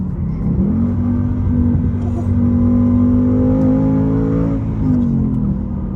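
A 2023 Ford Mustang Mach 1 with a 5-liter V8 accelerates in normal mode, its deep engine drone climbing steadily in pitch, easing briefly, then rising again, close and loud.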